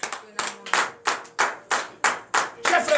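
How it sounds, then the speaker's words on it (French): A church congregation claps in a steady, even rhythm, about nine sharp hand claps close together, loud and near, with faint voices running beneath. "Et donner de vive acclamation à la Seigneur."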